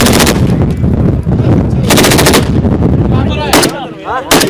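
Gunfire and artillery from fighting around Tikrit, Iraq, loud and continuous: dense bursts of shots and heavy blasts pile up over several seconds, with sharper close cracks near the end.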